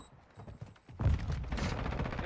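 Gunfire bursts in Call of Duty Modern Warfare, with faint scattered shots followed by a louder, dense volley of rapid firing from about one second on, no talk over it.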